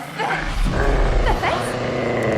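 A small dog growls in a low, continuous rumble at close range for a couple of seconds, with voice-like sounds layered over it.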